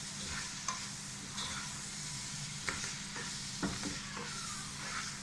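Salted onions sautéing in a pan for Thalassery biriyani, a continuous frying sizzle with occasional scrapes and knocks of a stirring spoon against the pan.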